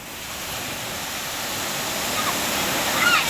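Ocean waves surge onto the beach at Pantai Gading Jempong, Lombok, making a continuous, loud roar of surf and wash that builds slightly toward the end, with no talk over it.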